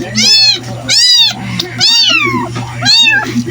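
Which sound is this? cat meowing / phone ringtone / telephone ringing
cat meowing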